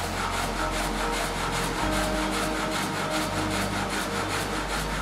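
A water-powered multi-blade frame saw rasps through wood at a sawmill in a fast, steady back-and-forth rhythm, over a constant low mechanical hum.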